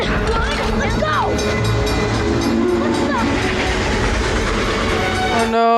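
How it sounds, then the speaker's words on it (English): Train approaching in the animated film The Iron Giant, a loud continuous rumble with rhythmic clickety-clack and a rising horn blast, filling the scene under excited voices and a dramatic score. "The train is coming!"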